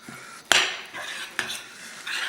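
Utensil stirring sauce into corned beef and pastrami Reuben slider filling in a bowl, two sharp scrapes and clinks over a steady wet mixing swish, close and fairly loud with no talk.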